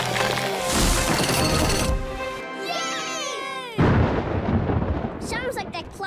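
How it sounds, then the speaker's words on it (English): A loud rumbling thunderclap booms over a musical Puppy Dog Pals cartoon soundtrack, with a second heavy crash later. "That's thunder, Rolly."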